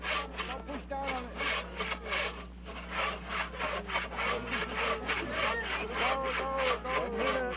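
Athabascan women hand-sawing wood in a timed contest at village games in Nikolai, Alaska, with steady rasping back-and-forth saw strokes close by and a low hum underneath.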